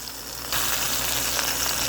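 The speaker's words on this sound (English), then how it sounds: "you hear that sizzle?" Steady sizzling and frying of chicken pieces browning in a hot pot, a broad crackling hiss that jumps louder partway through and stays constant, with no talking.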